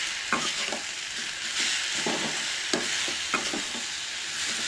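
Tomato sautéing in a pan for a Goan-style button mushroom curry, with a steady sizzle under repeated scraping strokes of a spoon stirring the food, close and fairly loud.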